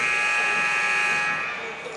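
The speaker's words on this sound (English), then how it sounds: "Buzzer goes." A basketball game buzzer blares in a high school gym, a loud sustained electronic tone that holds for over a second and then fades under crowd noise.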